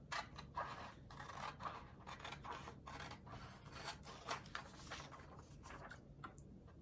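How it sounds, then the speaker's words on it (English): Scissors snipping paper pictures in a quiet room, a steady run of small crisp cuts and ticks, faint and close. "So I'm just gonna cut these out."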